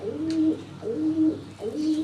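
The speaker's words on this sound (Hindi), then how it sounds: "ये घर का जो है वो रामपुरी कबूतर है" A Rampuri pigeon coos repeatedly in a soft, rolling rhythm, three low throaty phrases close by with no other sounds.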